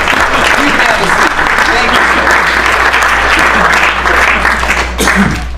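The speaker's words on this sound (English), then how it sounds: "Give her a round of applause!" An audience applauds loudly and continuously at a live magic and mind-reading talk, a dense wash of clapping with low hum underneath.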